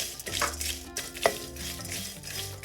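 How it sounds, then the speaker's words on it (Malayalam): About 100 grams of dried shrimp dry-roasting in a hot pan for a Kerala dry shrimp and jackfruit seed curry, stirred so the pieces rustle and scrape steadily against the metal, with a few sharper clinks close by and no talking. "ചൂടായ ചട്ടിയിലേക്ക് ഇട്ട് ഒരു 3-4 മിനിറ്റ് ഇത് വറുത്തെടുക്കണം."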